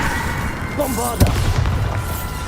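A Bombarda blasting spell detonates in Hogwarts Legacy: one sharp, loud boom near the middle, trailing into a rumbling, crackling tail over dense battle noise, with a short voice heard just before the blast.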